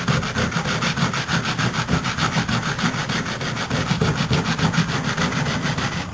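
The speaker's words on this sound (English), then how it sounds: "I'm also going to take a sheet of sandpaper, go ahead and smooth those down a little bit." Sandpaper rubbed by hand over lumps on a board gives a close, steady rhythmic scratching, back-and-forth strokes repeating evenly throughout with no talk.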